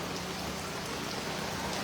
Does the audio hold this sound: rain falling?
yes